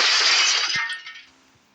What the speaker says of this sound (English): Whoever dropped that glass vase is in there.